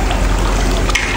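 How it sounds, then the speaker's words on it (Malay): Meat broth pours into a pan while cooking dendeng daging, a close, steady trickling splash of liquid with no talking. "Sekarang kita masukkan ini air rebusan daging tadi, masuk lagi sikit."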